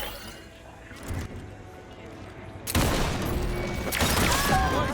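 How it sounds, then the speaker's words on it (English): A heavy-recoil weapon fires from the hip in Cyberpunk 2077, a dense burst of loud shots kicking in partway through and continuing, with quieter game ambience beforehand. "firing from the hip without a crosshair is not that easy with that weapon"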